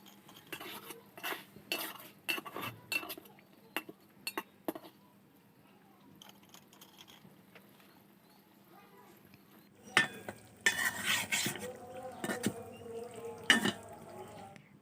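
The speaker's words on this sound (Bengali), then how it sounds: "একটা খুন্তি দিয়ে আমি একটু নেড়ে দিচ্ছি।" Cooked, simmered-down bugli fish turned in a pan with a metal spatula: sparse, soft scraping taps and clinks, then a livelier cluster of louder scrapes near the end, close and otherwise quiet.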